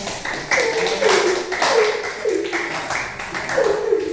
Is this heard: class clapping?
yes